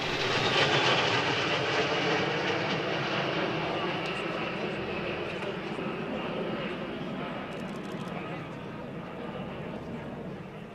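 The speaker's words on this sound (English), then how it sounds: "Team Rus flies 5 L-39 Albatrosses, for years the standard trainer in the Russian Air Force." Jet aircraft engines from a formation of five L-39 Albatros trainers at an air show, a broad continuous roar that is loud at first and slowly fades over the whole stretch, with no talk.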